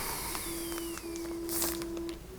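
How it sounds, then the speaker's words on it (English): A home printer runs in another room as a steady mechanical hum with a sustained tone and a few faint clicks and whirs, moderately quiet, with no talking. "Oh, there goes my printer."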